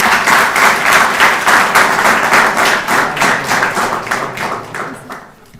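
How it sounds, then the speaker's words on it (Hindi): Guests are welcomed with applause at a school Rajasthan Day celebration: loud, rhythmic, closely synchronized clapping in steady pulses that fades away at the end. "आज हम सब जोरदार तालियों के साथ उनका स्वागत करते हैं"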